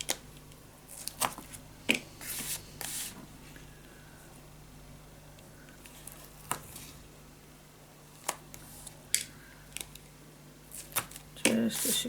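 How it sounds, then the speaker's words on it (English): Tape is laid down to secure a lace mini album, heard as soft, scattered crinkles, taps and short peeling sounds spread across a quiet, close craft-table background. "I am gonna add just another layer of tape just to secure"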